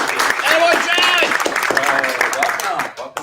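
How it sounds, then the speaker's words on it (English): An audience at a small startup pitch gathering claps in a steady round of applause, close and lively, with a voice speaking over it. "Let's give John Yu a round of applause."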